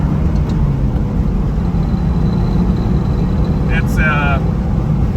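A 1976 Porsche 912E with a 5-speed gearbox being driven, its engine droning loudly and steadily from inside the cabin with a brief shift, and a few faint high squeaks along the way.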